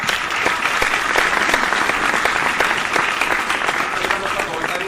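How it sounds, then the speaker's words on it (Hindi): Listeners applaud a poet at a Hindi poetry recitation with loud, continuous clapping. Dense crisp claps go on steadily from a close audience. "तो इस कवि की हर कविता का ताली से सम्मान कीजिए"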